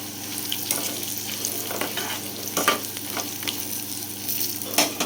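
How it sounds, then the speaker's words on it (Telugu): Turmeric stirred into a frying mango rice mixture in a pan, a soft continuous sizzle with scraping spoon strokes and occasional clinks, close and fairly quiet, with no talking. "పసుపు వేసుకొని బాగా కలుపుకోవాలండి"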